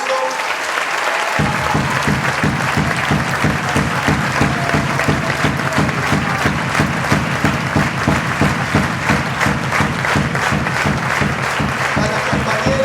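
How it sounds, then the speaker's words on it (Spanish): A large crowd at a political rally in Puerto Madryn breaks into loud, sustained applause with rhythmic clapping and cheering that starts abruptly and continues strongly throughout. "Yo quiero darle un gran aplauso"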